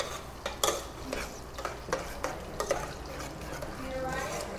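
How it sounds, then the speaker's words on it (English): A stirring spoon works through food in a kitchen, giving a run of scraping, clinking strokes close by, with a steadier wash of sound toward the end. "Then just kind of stir it up."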